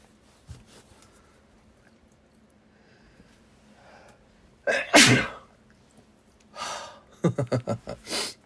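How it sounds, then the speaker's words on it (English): A person sneezes loudly and close by while working at a card shop, with sharp nasal bursts, a breathy gasp before them and a quick series of snorts and sniffles after, and no talking. "Oh, I gotta sneeze, dude."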